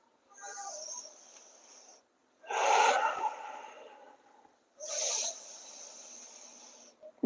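Forceful bhastrika pranayama breathing through the nose during a yoga session: three long, loud rushing breaths, each a few seconds long with pauses of silence between, heard close and alone.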